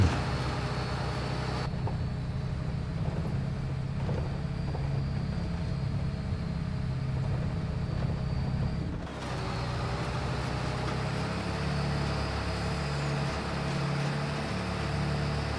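Truck engine in a video game drones steadily with a low rumble and faint whine, a brief dip near the middle before the engine note resumes and carries on evenly.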